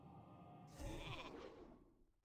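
Sheep bleat from the polymorph spell in World of Warcraft, a single drawn-out bleat that rises over game background sound and then fades.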